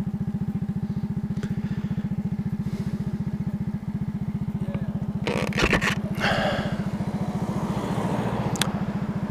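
A 50cc moped engine runs steadily while riding, a continuous close buzzing drone throughout with wind rush and a brief clattering burst midway.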